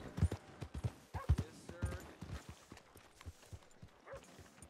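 Horse hooves clip-clopping in the Western video game Red Dead Redemption 2, a steady rhythmic series of close hoofbeats on a town street, with some talk mixed in.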